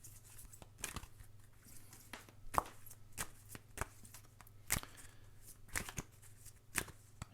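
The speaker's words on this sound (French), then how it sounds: "J'ai du mal à brasser les cartes aujourd'hui." A deck of tarot-style cards is shuffled by hand, giving quiet, close riffling and sharp slapping bursts at an irregular rhythm, with no speech.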